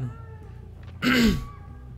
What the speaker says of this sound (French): ça c'est un corbeau